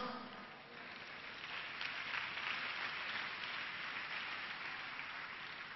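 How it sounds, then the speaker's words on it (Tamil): In a Sunday church service, the congregation claps together in a steady wash of applause that swells and holds. It sounds somewhat distant and faint, like rain. "கைத்தட்டுங்க பார்க்கலாம்"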